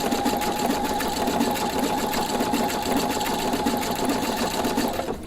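Domestic embroidery sewing machine couching yarn through a 3-hole yarn foot, running a steady, continuous rapid stitching whir at even loudness for the whole span, close by with no talking.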